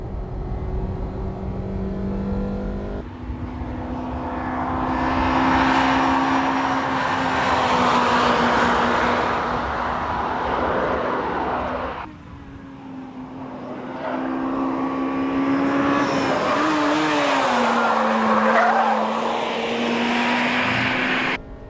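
A Honda Integra Type R at full throttle on a race circuit, its high-revving engine loud and close, climbing through the gears with a brief lift and a shift near the middle, then pulling hard again.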